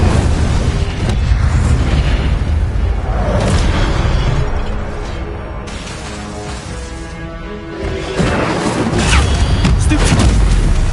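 Fiery Incendio spell blasts burst repeatedly in the game Hogwarts Legacy, loud whooshing booms layered with crackle and game music, easing briefly in the middle before surging again.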